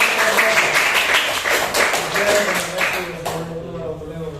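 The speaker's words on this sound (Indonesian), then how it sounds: "berikan aplaus yang meriah" A classroom audience applauds during a teacher's field practice session, a sustained burst of hand clapping with some chatter mixed in, gradually fading out toward the end.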